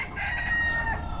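A rooster in the Florida Keys gives a single loud, close crow.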